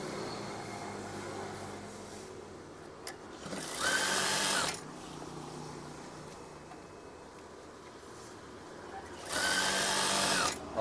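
A sewing machine stitches a curtain in long steady runs, whirring evenly close by, with two louder, brighter bursts of faster stitching standing out; a faint voice speaks now and then.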